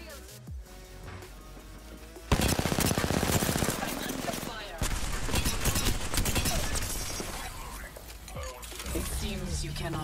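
Rapid SMG fire from Apex Legends Season 11 rattles loud and close in dense sustained bursts, broken by short pauses, while a player talks excitedly over the shooting.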